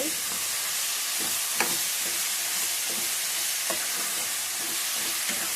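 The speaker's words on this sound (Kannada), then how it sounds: "ಈರುಳ್ಳಿ ಫ್ರೈ ಆಗಿದೆ." Onions fry in a pan with a steady close sizzle and hiss, punctuated by occasional soft scraping stirs, with no voices.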